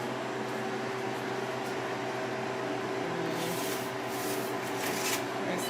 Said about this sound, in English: It's just to release the pressure from the vacuum, so you can open the door.